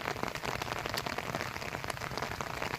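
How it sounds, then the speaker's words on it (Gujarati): Rain falls steadily on an open farm field, a dense, even patter of drops that stays loud and continuous throughout, with no voices. "આપણે આજ વરસાદ ચાલુ થઈ ગયો"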